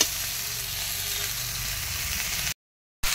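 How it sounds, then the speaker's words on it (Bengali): Ridge gourd stems sauté in hot oil in a pan, a dense, steady close sizzle that runs continuously, breaks off briefly into silence, then resumes, with no talking. "এবার আমি ভালো করে কষে নেব"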